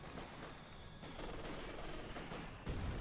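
Light machine guns and mortars fire in the Company of Heroes 2 strategy game, rattling faintly in the distance as a continuous clatter, with a heavier thump near the end.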